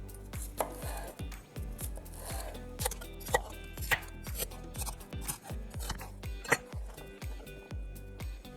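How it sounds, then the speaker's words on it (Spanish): A knife chops vegetables into sticks on a cutting board, with steady, close, crisp strokes repeating through the clip and no talking. "Y vamos a cortarlos en bastoncitos."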